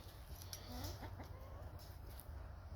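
Hens cluck softly and intermittently against a steady low hum, the calls faint and scattered.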